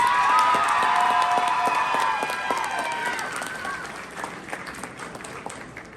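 A high school audience claps after a candidate speech: dense applause with some cheering at first, then thinning and fading over several seconds while talk rises faintly.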